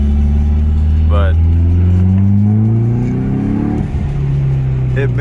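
Car with a swapped SR20DET engine revving hard, a loud rising drone that climbs steadily, then drops off and settles lower, with brief bits of talk over the engine.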